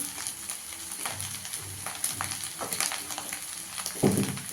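Chicken fried rice sizzling in a pan as soy sauce goes in, a continuous crackling fry with scattered stirring scrapes and a louder burst near the end, no talking.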